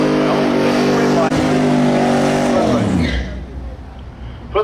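Audi race car at Irwindale racetrack revving hard with a loud engine roar, then spinning its tires as the pitch drops away, ending in a brief rough rumble and faint skid.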